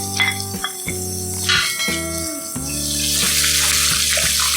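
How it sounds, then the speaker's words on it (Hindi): Garlic and chopped onion fry in oil in a pan for a chicken macaroni pasta, a sizzle that swells louder toward the end beneath steady background music. "इसको हमें 1 मिनट तक फ्राई करेंगे"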